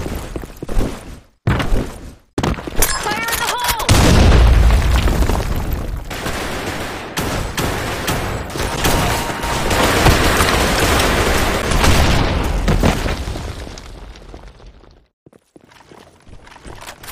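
Grenade explosions in a shooter video game: heavy, loud booms and blasts merge into a dense, continuous roar for about ten seconds, with gunfire-like crackle, then drop away abruptly.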